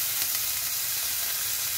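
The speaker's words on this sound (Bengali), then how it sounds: "রসুন পেঁয়াজটা ভাজা হোক" Garlic and onion frying in a pan, a dense, even sizzle holding steady throughout with no voices.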